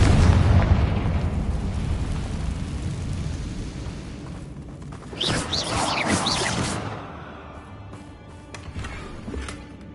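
A Confringo fire spell in a Harry Potter game bursts into a loud, close explosive boom with a rushing whoosh, then a crackling tail of debris and fading rumble.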